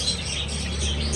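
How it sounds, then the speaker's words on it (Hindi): In a bird shop, many lovebirds chirp at once, making a dense, continuous chatter of high twittering calls. The sound is close and busy for the whole short moment. "ये देख सकते हैं परिंदों की चहचहाहट।"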